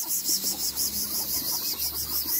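Chickens cluck and chatter nearby in a hazelnut orchard over a constant, loud high-pitched insect drone that pulses rhythmically throughout.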